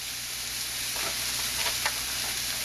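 Mushrooms stirred into kimchi fried rice in a hot pan, a constant close sizzle with a few soft scraping strokes of the utensil near the end.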